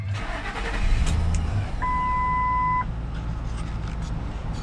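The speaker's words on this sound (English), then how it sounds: "All right, I'm gonna fire this thing up." A 2006 Ford F350 XL pickup truck's engine cranks and catches, rising to a loud idle, with a short steady electronic beep partway through.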